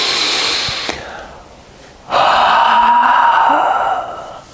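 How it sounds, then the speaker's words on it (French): Slow, loud breaths close to the microphone during a meditation exercise, a long exhale fading out, then a strong airy inhale that holds steady. "Et revenez dans le souffle, inspire, expire."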